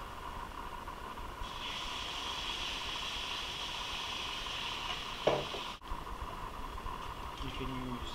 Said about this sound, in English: So the white sauce is cooking.